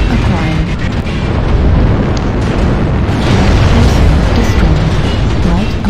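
Explosions in the MechWarrior video game, dense loud booming blasts and rumble filling the whole stretch, with game voice announcements over the din.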